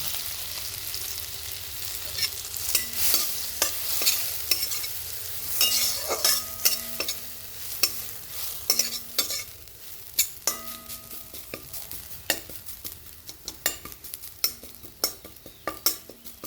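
Finely ground curry leaves roasting in a pan for chutney, with a soft sizzle beneath frequent sharp metallic taps and scrapes of a spoon stirring, close and fairly quiet, growing more sporadic toward the end.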